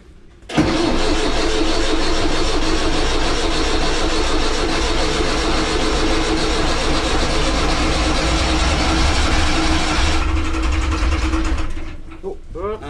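Inboard engine of an abandoned sailing yacht under restoration runs loudly and steadily from start for about ten seconds, then cuts out, leaving quieter mechanical clatter.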